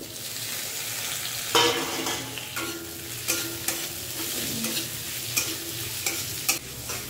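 Tomatoes and four whole green chillies go into a hot frying pan and get stirred, giving a steady sizzle with repeated scraping and clattering stirs close by, no talking.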